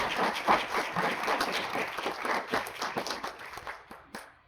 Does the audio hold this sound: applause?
yes